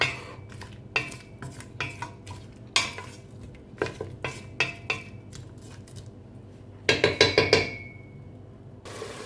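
A spoon knocks and scrapes against a pot while an apricot tagine with garlic is stirred. The clinks are irregular and close, with a quick cluster of rattling taps near the end and no voices.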